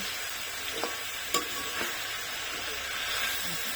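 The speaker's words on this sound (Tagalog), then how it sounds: "Igigisa lang natin." Mixed vegetables sauté in a hot pan, a steady soft sizzle with a few faint clicks of a utensil, no talking.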